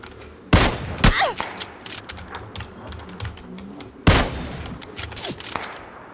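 Gunfire in PlayerUnknown's Battlegrounds comes as two sharp, loud shots a few seconds apart, with faint clicks and keyboard-like taps between them.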